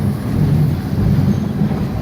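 A narrow gauge train rumbles steadily along the rails on a steep mountain grade in the Rockies, a low continuous roll of wheels and carriages with faint metallic squeal, close by and with no voices.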